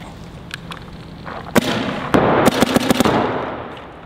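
A paintball marker fires downfield outdoors in a quick burst of sharp pops, several shots clustered closely together after a couple of fainter earlier cracks.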